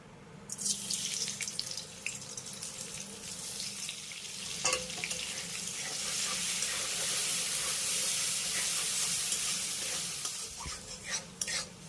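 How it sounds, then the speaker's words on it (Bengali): Gobindobhog rice frying in the same oil used for cashews and raisins, giving a steady broad sizzle with stirring scrapes that grows louder partway through and stays fairly close and continuous, without speech. "তারপরে ওই একই তেলের ভিতরে ভেজে নেব গোবিন্দভোগ চালটা"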